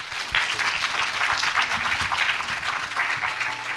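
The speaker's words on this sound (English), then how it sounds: "Let's give all winners a big round of applause" A crowd at a student award ceremony in Hong Kong gives sustained applause for the winners, a dense, even wash of many hands clapping that holds steady from start to finish.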